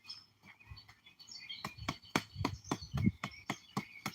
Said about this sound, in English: We're just chilling outside, listening to the birds.